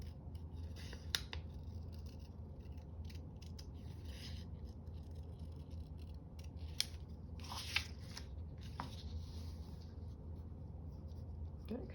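Scissors snip through paper for a craft folio, quick crisp cuts scattered over a quiet room, close and fairly soft with no talking.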